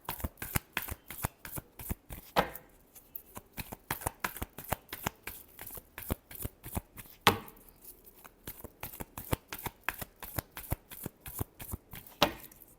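Tarot cards riffled and shuffled by hand in quick repeated bursts of crisp flapping, close and steady, with brief pauses between rounds and no talk.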